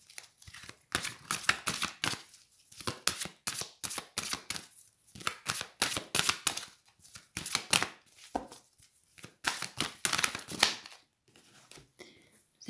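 Oracle cards are shuffled in quick, crisp riffling bursts with short pauses between, papery flicks and taps repeating close by for a reading.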